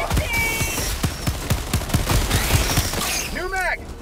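Rapid, evenly spaced automatic gunfire fired from the hip in the co-op shooter Helldivers 2, a loud sustained burst of close shots ending in a ringing mechanical whine, with players talking over it.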